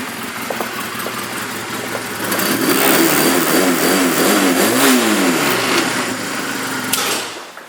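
A 2004 Honda CMX250 Rebel motorcycle engine runs close by, idling steadily before rising into a couple of throttle revs and settling back, with no talking.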